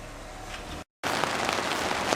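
Steady rain falls during a walk along the Via Franca del Bierzo, a dense even patter on surfaces broken by a brief moment of silence, then resuming louder.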